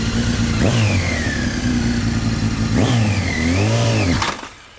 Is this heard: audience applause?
no